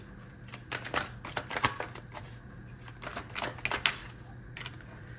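Tarot deck being shuffled by hand, a quick run of close papery flutters and snaps with a few louder slaps as cards drop out, no talking.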